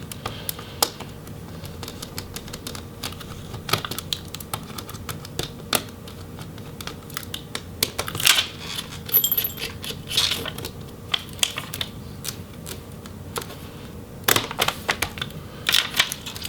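Plastic hinge cover being pried off a Lenovo Legion Y7000P laptop: a scatter of sharp little clicks, snaps and taps, irregular and close, over quiet background.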